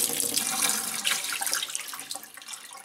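Filtered water pours steadily from a collapsible water filtration system, a continuous close splashing stream that runs the whole moment, unaccompanied by speech.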